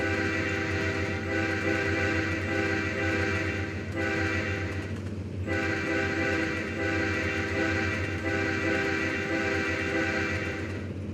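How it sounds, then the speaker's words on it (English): A train horn in the Trainz railway game sounds in long sustained chord blasts broken by short gaps, a rhythmic attempt at a Jingle Bells melody, loud and close with no talk over it. "I was trying to do the Jingle Bells song with the horn."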